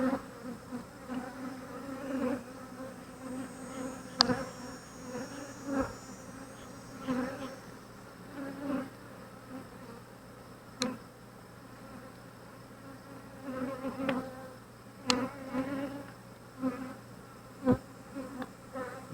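Honey bees buzz continuously around an open Flow Hive brood box during an inspection, close, with individual bees droning past and a few sharp clicks and knocks from handling the hive.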